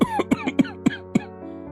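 A weak, sick elderly man coughs in a rapid series of about six rough, close coughs, trailing off into a raspy breath.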